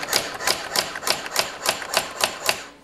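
A 1989 Brother ZX-30 electronic typewriter prints about nine sharp, evenly spaced daisy-wheel strikes, each a crisp close clack at a steady rhythm, with no talking.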